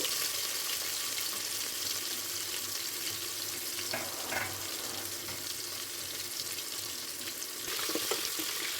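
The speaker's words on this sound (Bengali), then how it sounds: "আলুগুলোকে দিয়ে হালকা নাড়াচাড়া করে একটু ভেজে নিচ্ছি" Potatoes fry in hot oil in a pan for vegetable dalia khichuri, a constant close hiss of sizzling with occasional soft scraping as they are stirred, no voices.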